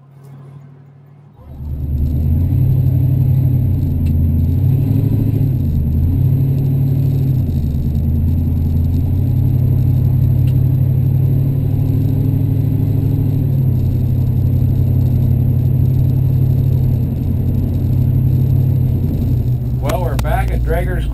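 A 1966 Ford Mustang coupe with a V-8 cruises down the road, its engine a steady, loud low rumble that holds for most of the run, with a brief rise in revs near the start.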